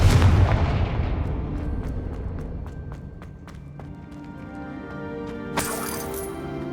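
Spell explosions in the video game Hogwarts Legacy: a loud, booming blast that rumbles and slowly fades, a scatter of sharp cracks, then a second, smaller burst near the end.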